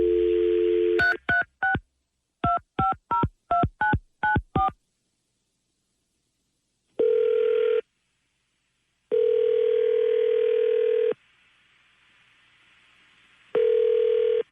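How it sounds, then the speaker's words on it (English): A telephone line gives a steady dial tone, then a quick run of keypad tones is dialed, followed by ringback tones repeating with pauses and a low line hiss, clear and close with no talking. "So we're going to call Amy, try to get a hold of Amy"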